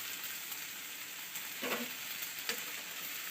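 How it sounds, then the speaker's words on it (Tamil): Fresh broad beans sautéing with turmeric and chili powder, giving a steady, quiet hiss of frying with a couple of brief scrapes of stirring near the middle and end. "நல்லா கிளறி விட்டு நல்லா வதக்கிடணும்"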